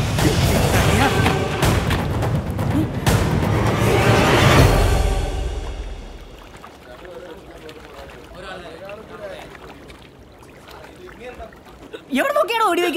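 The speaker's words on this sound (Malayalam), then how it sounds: "എവിടെ നോക്കിയാണോ വെടി വെക്കുന്നത്?" A gunshot in a Malayalam romantic film scene gives a loud, sharp blast with a rumbling tail that fades over several seconds, after which people speak.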